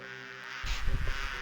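Bees buzzing around beehives in the 1996 PC game Discworld II: a thin buzzing drone swells into a louder, denser hum partway through, with no voices.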